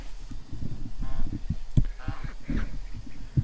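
Ducks squawking and quacking in a busy flurry while being fed, with short honking calls close by and a voice talking over them.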